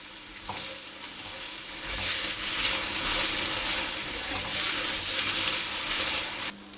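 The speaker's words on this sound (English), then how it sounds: "So having cooked the peppers for a good few minutes, I'm going to take those out." Peppers frying in a pan for ratatouille, a steady loud hiss of sizzling oil with occasional stirring, continuous and close with no voice over it.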